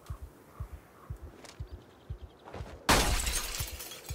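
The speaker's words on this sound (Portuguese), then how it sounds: "Quebra o vidro mesmo." In the Project Zomboid video game, a car window gets smashed: soft rhythmic thumps, then a sudden loud glass shatter with scattering debris that rings out for about a second.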